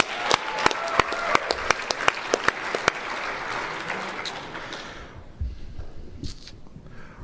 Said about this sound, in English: Let's give all our speakers one more round of applause.